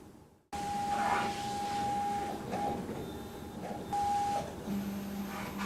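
A Lighthouse CPM 200 colour sign and label printer prints a yellow section with a steady mechanical whir and drone. Close and continuous, with a brief thump at the start and faint tonal whines.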